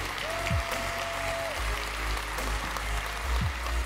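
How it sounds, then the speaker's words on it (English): Audience applause at a public education event, a broad wash of clapping that holds steady for several seconds with a low rumble beneath and a faint tone briefly over it. "Let's give these folks a huge round of applause for these outcomes."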